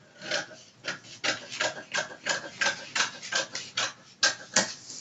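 Scissors cutting out a paper sleeve pattern: a close, rhythmic series of about a dozen raspy snips at a steady pace, no talking.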